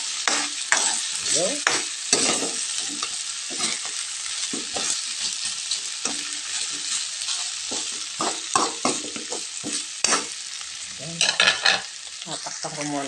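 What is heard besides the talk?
chicken feet being sautéed in a pan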